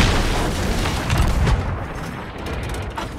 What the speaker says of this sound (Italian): M'ha preso con la palla di cannone.